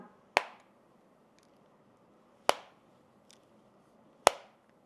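Three sharp, crisp snaps spaced about two seconds apart, each a quick click with a short decay, over near silence: a Samsung Galaxy Z foldable phone hinge snapping shut.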